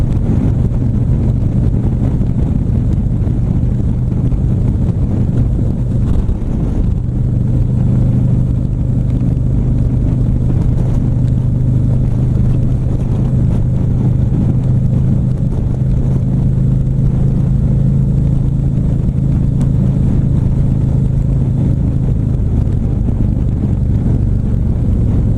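A 2017 Ultra Limited motorcycle cruises at speed, its engine a steady low rumble buried in constant, loud wind roar that runs unbroken throughout.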